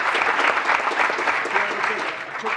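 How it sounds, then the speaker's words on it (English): Loud, close round of applause for student athletes at a town council meeting, brisk continuous clapping from a room of people lasting the whole moment. "And a nice round of applause for our student athletes."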